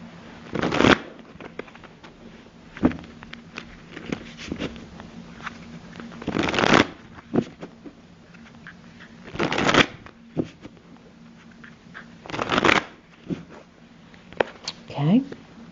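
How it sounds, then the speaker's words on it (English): Tarot cards are shuffled in several short riffling bursts spaced a few seconds apart, close and crisp, with quieter handling of the deck between them. "let me first shuffle these cards."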